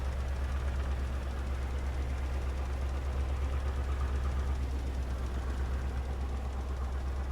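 A small Ford tractor runs steadily at a low, even drone while hauling a heavy 18-ton planter across a field in Farming Simulator 22, with a constant engine hum and no breaks.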